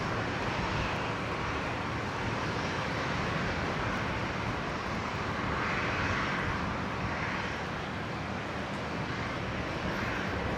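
An Alliance Airlines Embraer E190 jet in Air Force Centenary livery at Brisbane Airport gives a steady, distant engine roar that holds at an even, fairly faint level.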